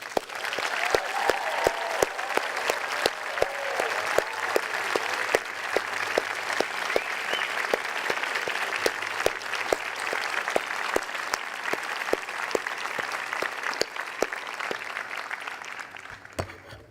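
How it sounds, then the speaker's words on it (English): An audience at a university graduate convocation applauds the graduates: sustained, even clapping that fills the hall for about seventeen seconds before tapering off at the end. "won't you join me in applauding them?"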